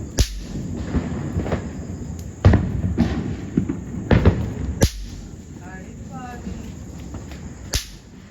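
Garlic firecrackers burst during Diwali celebrations: a handful of sharp, loud cracks spaced a few seconds apart, with faint voices and background noise between them.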